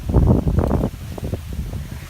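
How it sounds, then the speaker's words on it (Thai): Strong wind buffets the microphone by the sea at a coastal viewpoint in Mu Ko Phetra National Park, Satun, Thailand, loud gusts rumbling then easing into softer rustling. "ลมแรงดีครับ"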